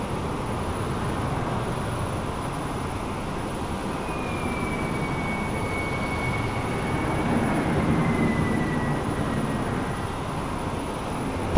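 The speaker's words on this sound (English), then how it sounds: "I could hear a freaking jet engine ripping in there." An F-4 fighter jet's engine roars low overhead in a broad, steady rumbling wash with a thin whine gliding across it, loud and sustained with no voices.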